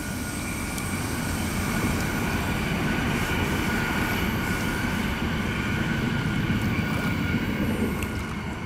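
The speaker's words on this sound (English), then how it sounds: "That's the train over there." A steady rumbling roar of a train rolls continuously in the distance, with no talking over it.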